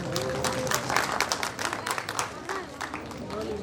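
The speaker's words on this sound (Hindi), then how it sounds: "तालियों से इनका स्वागत करें।" An audience at a university research conference in Patna applauds to welcome the vice-chancellor, with steady, moderately loud clapping from a hall crowd lasting several seconds.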